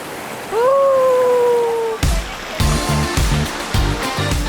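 A rocky river stream rushes over stones in bursts of loud, close, splashing water, with a brief high tonal sound before the flow.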